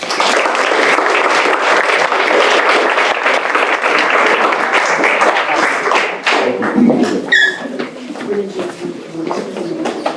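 A roomful of people claps steadily at a school board meeting honoring student teams, the dense applause running strong for about six seconds before thinning into scattered claps and murmuring voices.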